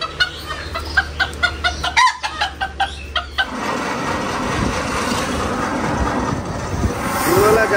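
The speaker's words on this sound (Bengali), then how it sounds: "মোরগ আর মুরগি বিছানায় বসে আছে।" A rooster and hen sitting on a bed cluck in a quick series of loud, close calls, after which a steady murmur of background noise takes over.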